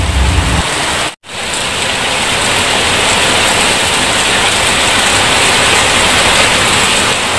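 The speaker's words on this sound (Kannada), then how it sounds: "ನೋಡಿ ಹಿಂಗೆ ಸುರಿದ ಮಳೆ." Heavy rain pours down steadily in a dense, loud hiss, briefly cut off after a second and then continuing unbroken and close.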